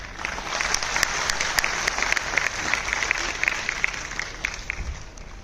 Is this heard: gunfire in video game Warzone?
no